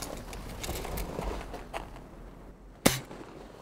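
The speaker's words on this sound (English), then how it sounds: "Thing's shooting blanks just like my grandpappy." A single sharp blank round fires from a gun, a loud close crack standing out from a faint outdoor background.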